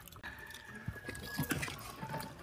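Water is poured into a container during a meal of chicken pastil, a short liquid splash and gurgle with a rising filling tone, close and quiet.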